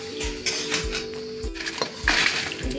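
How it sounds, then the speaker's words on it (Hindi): Fried jackfruit scraped and tipped from a kadhai onto a metal thali: a few close metallic clinks and scrapes of a utensil against pan and plate, with faint kitchen background. "ये देखिए कटहल हमारा भून चुका है, तो इसे हम थाली में निकाल देंगे।"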